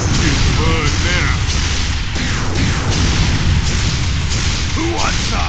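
Continuous heavy weapon fire and explosions in Unreal Tournament 3 Warfare on the Torlan map, a dense, loud rumbling barrage with scattered booms and pops, mixed with game announcer voices.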